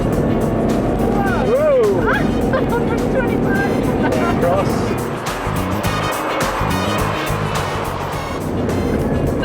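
A car accelerates hard on an open road, its engine note climbing and roaring loudly and continuously while excited voices talk over it.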